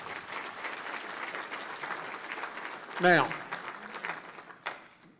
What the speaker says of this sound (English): So please give him another big round of applause.